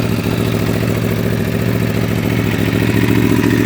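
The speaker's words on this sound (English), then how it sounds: "Bike sounds solid." A 2019 Aprilia Tuono V4 Factory motorcycle's V4 engine runs loud and close, holding a steady, throbbing idle with a slight rise in pitch toward the end and no talking over it.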